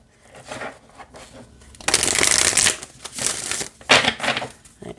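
An oracle card deck is shuffled by hand close up: a few soft riffling passes, then a louder, longer burst of rustling card flicks, then shorter crisp shuffles, with no talking.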